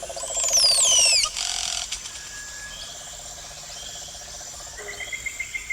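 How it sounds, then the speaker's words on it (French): Steady chirring crickets or insects fill a nature soundscape, with sweeping bird whistles near the start and repeated pulsing calls, moderately loud and with no talk. "invite les pensées à se laisser bercer par ces sons de la nature"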